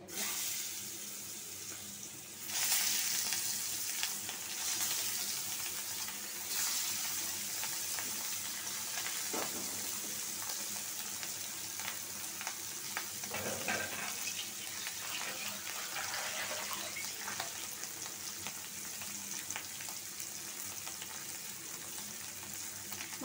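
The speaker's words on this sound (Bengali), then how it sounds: "মাছটা ভাজা হয়ে গেছে, খুব কড়া করে ভাজছি মাছটা।" Katla fish frying crisply in a pan of oil, a continuous close sizzle with faint scraping and stirring touches throughout, no talking over it.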